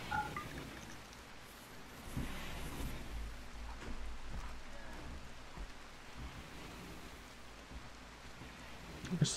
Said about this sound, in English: This rain has lasted a good long while.